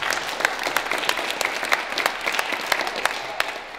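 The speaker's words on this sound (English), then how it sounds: "I believe that deserves a round of applause" Audience applause at a forum event, a steady wash of many hands clapping with sharper individual claps popping through, fairly close and sustained before tapering at the end.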